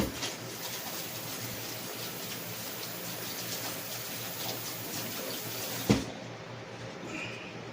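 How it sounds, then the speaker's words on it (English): Hands are rinsed under a running kitchen tap during brisket preparation, giving a steady, faint hiss of flowing water with a single brief knock near the end and no talking. "Wash my hands real quick."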